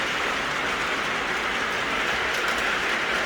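An O gauge model train runs along a home layout at a slightly faster pace than usual, giving a steady, continuous rolling rumble and hiss with no pauses.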